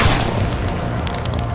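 Loud booming gunshot in the X-COM 2 video game, one heavy blast with a dense rumbling tail filling the brief moment.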